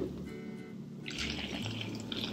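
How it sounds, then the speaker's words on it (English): Hot water poured from a cup onto compressed peat soil discs, a close, steady splashing and trickling pour that grows brighter and fuller midway through. "I'm gonna take 2 cups of hot water and I'm gonna pour them into my little dirt discs"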